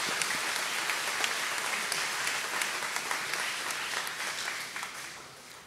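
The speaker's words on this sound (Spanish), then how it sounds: "María, Justin, el equipo y todos, un aplauso también." Church congregation applauding during a trilingual Easter Vigil Mass on Holy Saturday night, a broad even roll of clapping across a large room that thins toward the end, with only faint voices.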